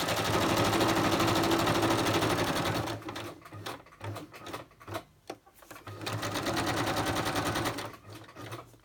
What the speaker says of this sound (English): So anything that's narrow, I always do a straight stitch.